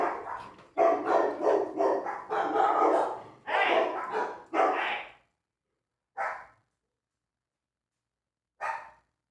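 Several dogs bark in a rapid, loud burst of overlapping yaps and woofs that fades out, followed by two isolated single barks after pauses of near silence.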